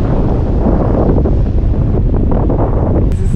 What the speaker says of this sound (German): Viel windiger, viel mehr Wellen.